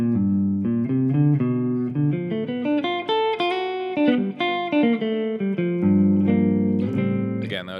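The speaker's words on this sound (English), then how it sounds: "that was just kind of going between the A Dorian mode and the G Dorian mode." Electric guitar solo moving between A Dorian and G Dorian modes: flowing melodic lines of quick notes and sustained bends, with some chord-like stacks, played up close and loud with no voices.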